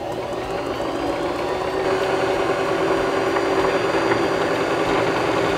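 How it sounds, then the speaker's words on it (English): A Singer Start sewing machine runs steadily while winding a bobbin under foot-pedal control, giving a close, even motor whir with a constant hum and no breaks. "now we can push down on our foot pedal again and wind the rest of our bobbin"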